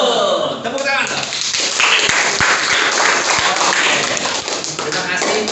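Classroom applause from seventh-grade students after a quiz answer, a sustained patter of clapping with sharp taps and thuds, talking voices running through it.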